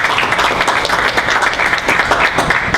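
A lecture audience at a BioCurious event applauds to welcome SETI Institute senior astronomer Seth Shostak, producing steady, dense clapping from a sizable crowd that holds for the full stretch without speech.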